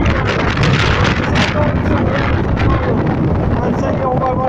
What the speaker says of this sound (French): malgré ces coups de vent absolument terribles